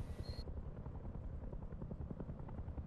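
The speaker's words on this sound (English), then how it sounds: "They definitely sound different, the two helicopters." Helicopters in the survival video game Rust thrum with a continuous rhythmic rotor chop, fairly faint and distant, with no talk over it.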